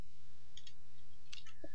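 A few quick, soft keyboard key clicks come in two small bursts while a word is typed into a Photoshop design, with a faint steady hum underneath.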